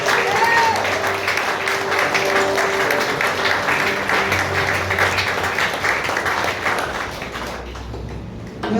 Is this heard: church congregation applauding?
yes